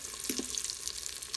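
Breaded chicken for chicken parmigiana frying in hot oil, giving a steady close sizzle with bright crackling pops and a couple of brief clinks, with no talking.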